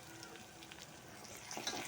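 Curry leaves and cumin seeds sizzle in hot oil for a simple Marathi dal tempering, a steady close crackle and hiss with a brief louder spatter near the end and no talking.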